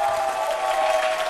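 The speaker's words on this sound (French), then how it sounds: "Vous pouvez vous applaudir." A live television studio audience, including members of a badminton federation, claps briefly, a short, even patter of applause heard in the middle of a broadcast with a faint tonal hum beneath it.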